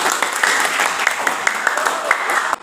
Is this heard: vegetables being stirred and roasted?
no